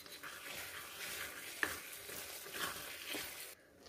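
Homemade khoya, made from 1.5 kg of milk, is stirred into carrot halwa cooking on a gas stove: a steady close sizzle with scraping stirs and a few sharper scrapes, cutting off abruptly at the end.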